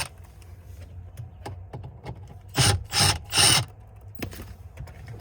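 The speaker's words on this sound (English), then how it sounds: "So we're gonna remove our lower kick panel." A car's lower kick panel is pried off, giving scattered plastic clicks and ratcheting snaps followed by three louder bursts of rattling as the panel pulls free, close and with no talk.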